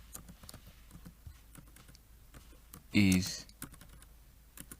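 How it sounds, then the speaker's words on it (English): Typing on a computer keyboard during a CorelDRAW logo design lesson, soft scattered keystrokes in an irregular rhythm, with a brief louder noise midway and a few spoken words. "I can now click on it and type. I can type what I want."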